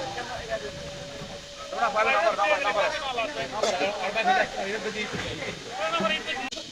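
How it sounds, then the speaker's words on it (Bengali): A hillside waterfall keeps up a steady broadband rush of falling water in the background, while a person talks over it almost the whole time. "আমার পিছে যে ঝর্ণাগুলো দেখতেছেন আমরা এখন ওদিকেই যাব"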